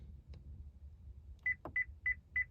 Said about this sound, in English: You hear the beeping?